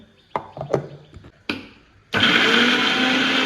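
A few knocks and clatters, then a blender starts and grinds ginger, garlic, green chilli and dried chilli into a paste, loudly and steadily, close by.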